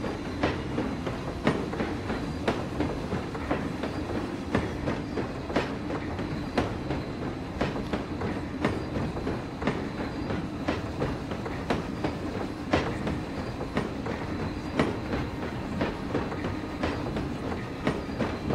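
A train rolls along its track in the video game Planet Coaster, with steady rhythmic clickety-clack wheel beats over a continuous rumbling ride noise. There is no talking.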